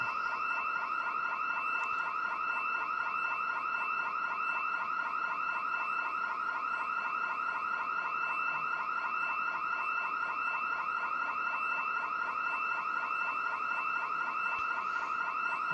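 A house alarm rings in the Project Zomboid video game, a loud, steady electronic warble that continues unbroken with no voices over it.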